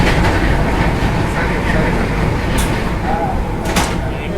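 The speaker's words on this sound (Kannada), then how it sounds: "ಮೈಸೂರು ಶತಾಬ್ದಿ ಎಕ್ಸ್ಪ್ರೆಸ್ ಜೊತೆ ಇವಾಗ ಕ್ರಾಸ್ ಆಗ್ತೀವಿ." A Mysore Shatabdi Express train roars past at speed while crossing another train, heard from inside the moving carriage as a loud, continuous rumble and rattle with a couple of sharp clacks.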